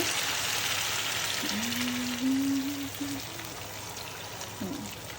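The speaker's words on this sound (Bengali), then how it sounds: "এবার আমি এই মিল্কগুলো দিয়ে দিব।" Milk pours into a pot of chicken leg biryani with a steady watery splashing and trickling, close and fairly loud, while a low tonal hum sounds faintly underneath.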